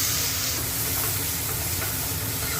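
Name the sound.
onion frying in oil with mustard seeds and cumin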